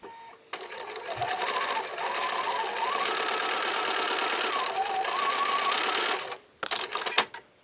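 Sewing machine stitching quilt block pieces at a quarter-inch seam, a fast continuous mechanical whir for several seconds close by, stopping with a few clicks and handling noises at the end.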